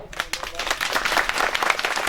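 Crowd at an outdoor gathering applauding, a short burst of scattered clapping that builds over about two seconds, with voices mixed in beneath the hands.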